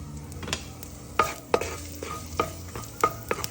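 Garlic hits hot sesame oil in a pan for stir-fried vegetables. A soft sizzle sits under sharp clinks and scrapes of a utensil stirring, arriving in irregular bursts close by.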